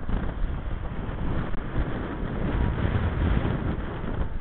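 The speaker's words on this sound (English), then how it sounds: "It's windy as heck, so getting blown around a bunch." Strong wind buffets the microphone outdoors at a camp base in Indiana, a heavy, continuous low rumble and roar with gusty surges throughout and no voices.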